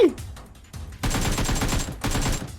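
Rapid gunfire in PUBG Mobile, dense bursts of automatic shots crackling in two loud volleys close by, with no talk over them.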